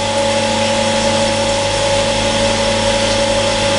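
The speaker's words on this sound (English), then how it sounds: "This time I'm going to grind the other faces so I don't grind too much size" A surface grinder works the faces of a metal collet block, giving a steady, loud mechanical whine with a constant tone throughout and no talking.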